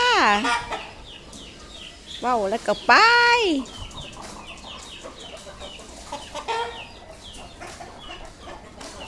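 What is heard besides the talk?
chickens clucking while being fed rice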